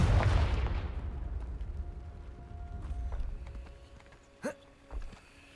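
A Confringo blasting spell explodes in Hogwarts Legacy on PS5: a loud, deep burst opens the moment and rumbles away over a few seconds, followed later by two short, sharper thuds.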